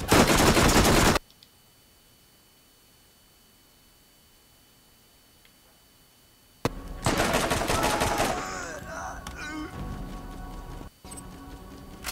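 Rapid bursts of gunfire from the Borderlands video game: a loud opening burst, a long quiet gap, then renewed dense shooting with clattering effects and a few sharp cracks toward the end.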